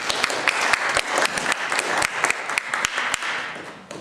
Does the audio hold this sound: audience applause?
yes